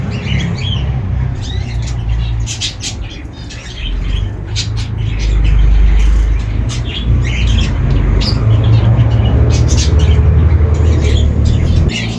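Indian bulbuls chirping around a village garden as they build nests, short sharp calls scattered over loud steady low rumble and background noise.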